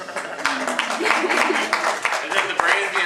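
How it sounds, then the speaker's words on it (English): An audience claps in a sustained round of applause, dense and fairly close, while voices murmur and talk over it. "Like another round of applause."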